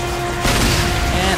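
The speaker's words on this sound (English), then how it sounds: "Let me throw a grenade at them." A grenade explodes in the Call of Duty MW3 video game on Wii, a sudden broadband boom that cuts in partway through and holds loud over game background noise.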